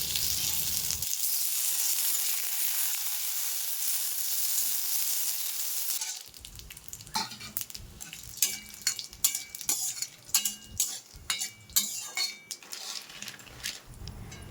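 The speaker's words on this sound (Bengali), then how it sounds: "কাজু আর কিশমিশগুলো ভেজে নেব।" Cashews and raisins fry in a spoonful of ghee with cardamom and bay leaves in a wok, a steady sizzle at first, then rhythmic stirring scrapes and clinks of a spoon against the pan.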